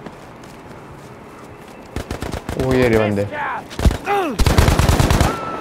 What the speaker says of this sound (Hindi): ये गन है भाई खतरनाक भाई, चार ही गोलियां पड़ती हैं बंदों में।